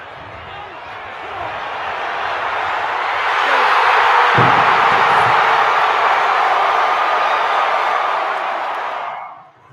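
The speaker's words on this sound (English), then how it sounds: "Take a listen to this crowd noise" A packed football stadium crowd roars around a kick, with a dull thump of the ball partway through. The cheering swells into a sustained, loud wash of voices before fading sharply at the end.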